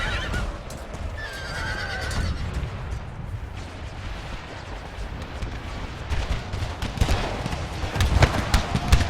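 Cavalry horses whinny and neigh amid battle din in an American Civil War strategy game, with hoofbeats and scattered gunfire and artillery blasts under a dense, continuous roar.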